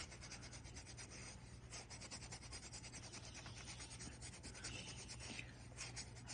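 Polymer clay spiral pendant being rubbed with fine grit sandpaper, a quiet continuous rasping scrub in quick back-and-forth strokes, close and faint under a low steady hum.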